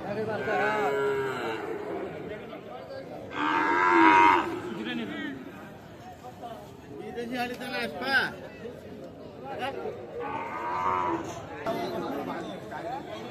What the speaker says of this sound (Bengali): শাহিওয়াল জাতের সার বাছুর।